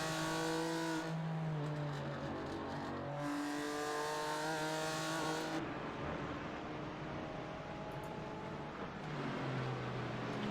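A GT4 race car engine at Canadian Tire Motorsport Park, heard onboard from a nose-mounted camera, revving hard with rising and falling pitch through gear changes, loud and continuous.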